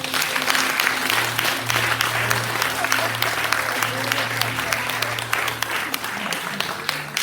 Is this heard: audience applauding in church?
yes